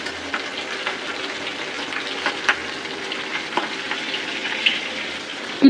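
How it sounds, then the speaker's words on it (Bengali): Hilsa fish fries steadily in hot oil, a close, continuous crackling sizzle with scattered louder pops throughout and a brief clatter at the very end. "যেই তেল দিয়ে ইলিশ মাছটা ভাজলাম"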